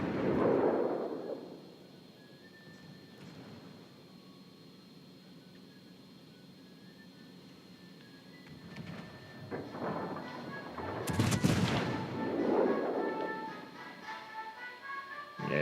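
The battleship Hyuga in World of Warships: Legends fires its guns in heavy booming blasts, one at the start and another cluster later, with a low rumbling roll between them.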